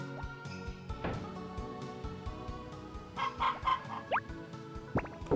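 Chickens cluck in the Harvest Moon farming video game, with repeated short digital clucks and a rooster-like crow mixed over a busy background of game music and effects, moderately loud with no talking.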